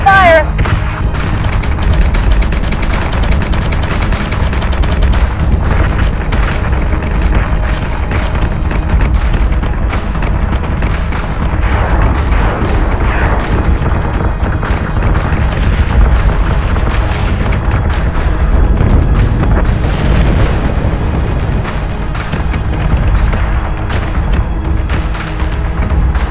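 Explosions from incoming fire in a sci-fi space battle, a dense run of loud booms and thuds with rumbling impacts throughout, mixed with shouting voices and dramatic battle noise.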